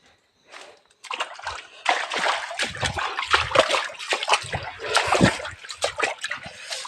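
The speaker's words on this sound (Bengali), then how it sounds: "ঝর্ণার পানি পড়তেছে।" Water falls beside a quiet stairway near Alikadam cave, splashing and sloshing close by in irregular bursts that swell and fade, with no clear talk.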